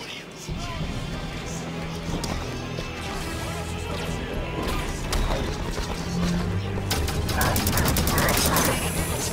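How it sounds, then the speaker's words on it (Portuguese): Explosions and gunfire from a Halo 5 battle make a dense, loud barrage of blasts and crashes, with rapid firing bursts building toward the end. "Explosão!"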